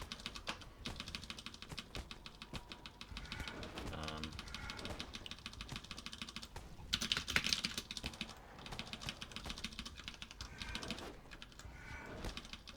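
Typing on a computer keyboard during a game session, a steady, close run of quick clicking keystrokes throughout, with a denser burst partway through.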